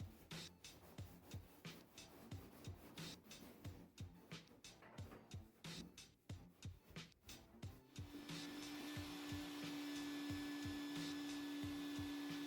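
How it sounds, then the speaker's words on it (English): A shop vac cleans inside a clothes dryer with a long flexible brush attachment, first amid rapid tapping and knocking of the brush against the drum, then settling into a steady, droning suction hum; faint overall, no voices. "Use the long flexible brush, then vacuum again."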